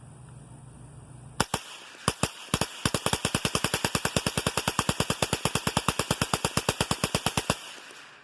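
Rapid, evenly spaced rifle shots with regular Stinger rounds at a shooting range: a few scattered cracks, then a long steady string of loud, sharp reports fired in fast succession, ending abruptly.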